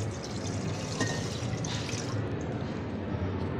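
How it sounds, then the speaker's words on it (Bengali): Milk poured into a pot on a lit gas stove for a Bengali simoi (vermicelli) dish, a steady continuous liquid pour with a soft watery rush running throughout, close and moderately loud, with no talk. "এরপরেই আমি দিয়ে দিচ্ছি দুধটা, দিয়ে দিলাম, ঢেলে দিচ্ছি"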